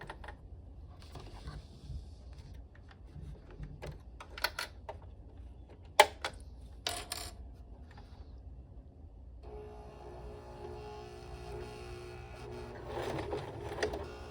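A sewing machine stitches a fabric getaway sling, driven by foot pedal and then turned by hand crank over bulky sides; a steady low mechanical whir with scattered sharp clicks, growing into a busier, brighter run near the end.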